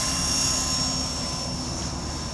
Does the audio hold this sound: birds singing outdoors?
no